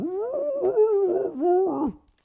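A person's voice imitates an old dog howling, a rising and falling drawn-out wail that breaks into a few wavering howls over about two seconds, loud and close, then stops.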